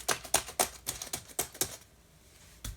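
Keys are pressed on a Panasonic Toughbook CF-C1 convertible laptop keyboard, giving about a dozen crisp, clacky taps in an uneven quick rhythm, then a pause and one last tap.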